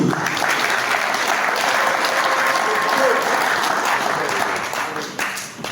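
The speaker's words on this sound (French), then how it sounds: "je vous demande d'applaudir" A large crowd at the official installation ceremony of a steering committee breaks into loud, sustained applause, a dense continuous wash of clapping that holds steady and then begins to thin out near the end.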